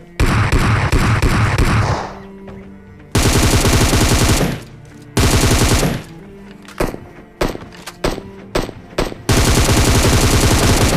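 Bursts of automatic gunfire and heavy shots in a battle royale shooter game, loud and close, coming in repeated volleys with short gaps of quieter game sound between them.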